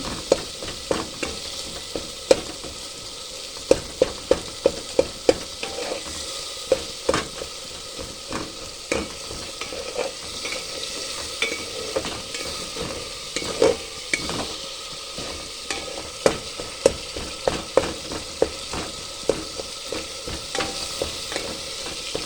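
A spicy masala with tomato sautés in a pan: a steady close sizzle runs throughout, punctuated by regular clicks and scrapes of a spoon against the metal, with no voices.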